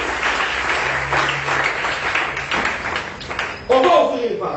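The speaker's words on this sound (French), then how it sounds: "Acclamons la parole du Seigneur" A church congregation's applause fades under a speaking voice, followed by a few taps and a brief clap-like thump near the end.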